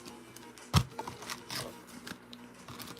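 Pokemon trading cards are shuffled by hand in a quick run of soft papery flicks and riffles, with one sharper slap near the start, heard close up and quiet, with no talk.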